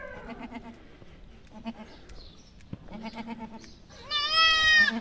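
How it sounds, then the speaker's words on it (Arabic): A goat bleats several times, starting and stopping at close range, ending in one loud, wavering cry. She has given birth three or four times and has been in poor condition since. "هذه راه معزة"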